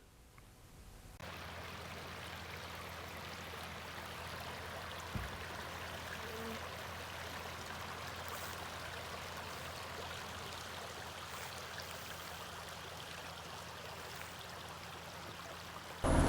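A small creek flows under a stone bridge beside a roadway in Custer State Park, a steady soft trickling and gurgling of water that runs alone and unbroken, with a faint low hum underneath.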